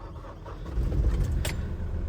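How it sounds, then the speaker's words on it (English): The 3-liter diesel engine of a 2017 Mitsubishi FE160 dump truck turns over and settles into a low, rumbling idle, with a brief metallic jingle partway through. "It's got a 3-liter diesel engine. As you can hear, very quiet engine."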